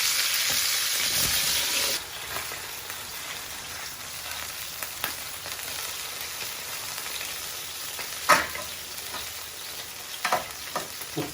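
Small grenaille potatoes fry in a pan for a côte de bœuf with pepper sauce, giving a steady, close sizzle, louder for the first two seconds and then settling, with a few light stirring clicks and knocks.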